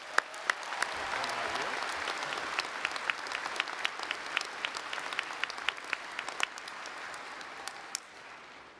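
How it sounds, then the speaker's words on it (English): Big round of applause from a crowd at a university commencement ceremony, a dense steady wash of clapping with sharp individual claps standing out, fading near the end. "Another big round of applause"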